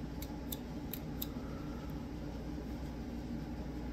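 A few quick, faint metallic clicks from the scissors of a multitool being handled and opened, spaced irregularly in the first seconds over a low, steady background hum.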